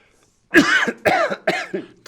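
A person coughs in three or four harsh, closely spaced bursts, near and fairly loud, during a podcast recording.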